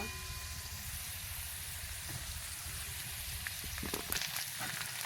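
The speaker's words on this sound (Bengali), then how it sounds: "এখন আমরা এখানে পেঁয়াজ, লঙ্কা আর রসুন দিয়ে দেব" Onion, green chilli and garlic added to fried potatoes in a pan, a faint, steady sizzle with soft stirring clicks growing toward the end, heard alone.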